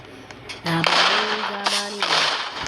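Repeated sharp gunshot bursts in the Roblox game Frontline, loud and close, in quick succession with brief pauses between volleys.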